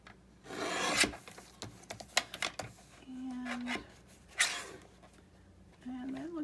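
Scissors trim old book pages for a craft pocket, giving rough rasping and crisp paper cuts in short bursts close by, with a person talking over them.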